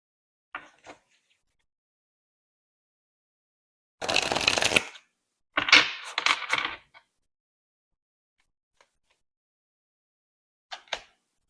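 Tarot cards shuffled and drawn for a pick-a-card reading: a brisk riffle burst, then a second stretch of quick shuffling and flicking, with a few faint isolated card taps around it in otherwise near silence.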